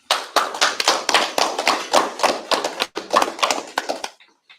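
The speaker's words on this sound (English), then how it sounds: "All right, clap it up." Audience at a scripture class clapping, a brisk run of uneven hand claps over about four seconds, fairly close, then fading out.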